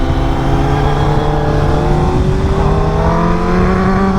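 A 1000cc motorcycle accelerates hard with a loud, continuous engine note, its pitch climbing steadily as it shifts up through the gears with a quick shifter, with no clutch pauses between gears.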